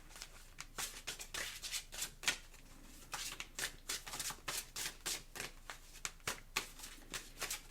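Starseed Oracle cards being shuffled by hand: soft, quick riffling bursts repeat in an irregular rhythm, close and quiet, with no talking.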